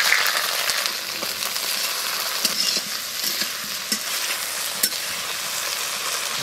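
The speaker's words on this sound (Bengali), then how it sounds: "কালো জিরে দিব পেঁয়াজ টমাটো দিন দিব" Nigella seeds, onion and tomato fry in mustard oil in a kadai, giving a loud, dense, continuous sizzle close up, with occasional scrapes and taps from stirring and no voices.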